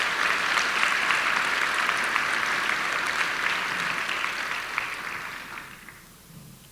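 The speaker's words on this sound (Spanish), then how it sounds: "Otro aplauso para ellos, por favor." Audience applause at the closing Eucharistic celebration of a synodal assembly, a dense, steady wash of many hands clapping that holds strong for several seconds, then thins and fades out near the end.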